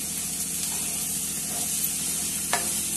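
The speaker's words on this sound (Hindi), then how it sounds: "मसाला भून जा रहा है, तब मैं इसमें पालक डाल रही हूँ" Spinach sizzles in hot oil with fried masala for palak paneer while a spoon stirs and scrapes through it, a steady close frying hiss with a sharper clack near the end.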